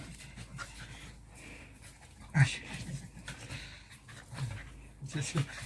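A small house dog pants and whimpers at home in soft, scattered bursts, with one sharper yelp near the middle, while people talk over it.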